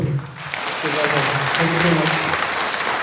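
A crowd applauds at an awards celebration, steady dense clapping filling the room for a few seconds while a host speaks briefly over it.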